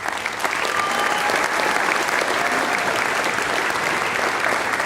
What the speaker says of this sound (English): Let's recognize her with a round of applause.